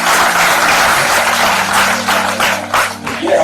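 An audience at a poetry recital in Bhopal breaks into dense, steady clapping that stays loud and close for the full stretch. A faint low hum runs underneath.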